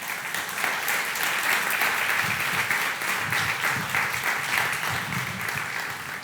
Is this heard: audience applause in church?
yes